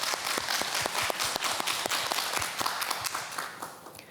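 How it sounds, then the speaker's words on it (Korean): A studio audience on a Korean morning talk show claps in a lively burst of distinct individual claps, close and crisp, tapering off toward the end. "큰 박수로 청해 듣겠습니다."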